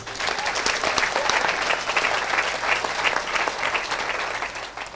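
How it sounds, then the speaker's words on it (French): A church congregation bursts into sustained, dense applause to acclaim the Lord during an evangelistic gathering, with many hands clapping steadily and loudly for the full length and faint voices mixed in. "Acclamons le Seigneur"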